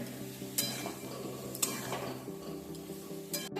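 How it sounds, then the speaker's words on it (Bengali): Potatoes and poppy seeds stir-fried in a pan for vegetarian alu posto, giving a steady close sizzle with scraping stirs and a few sharper utensil scrapes against the pan, and no talking. "এভাবে 5 থেকে 6 মিনিট নেড়ে চেড়ে নিতে হয় পোস্তটা আলুর সঙ্গে, যতক্ষণ না পুরোটা ভাজিয়ে যায়"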